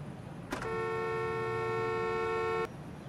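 A car horn in the video game Parking Tycoon gives one loud, steady honk held for about two seconds, then cuts off abruptly.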